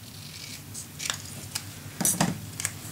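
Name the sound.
cutting paper for a mini album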